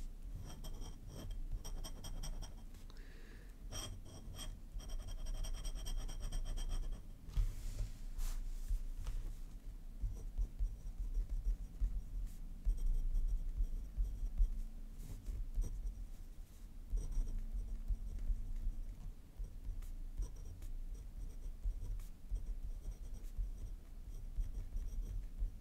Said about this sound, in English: There's that sound. It's kind of glass on paper.